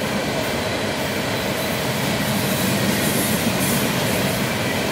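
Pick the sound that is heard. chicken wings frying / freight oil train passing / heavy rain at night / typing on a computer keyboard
freight oil train passing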